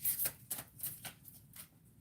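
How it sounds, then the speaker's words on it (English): Tarot cards are shuffled in quick, soft riffling bursts, three or four rustling pulses close by and fairly quiet. "I'm going to shuffle one more time with this."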